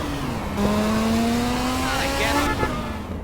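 A car in the video game GTA San Andreas drives along with a steady, slowly rising engine tone, then brakes hard with a short tire screech near the end, under someone talking.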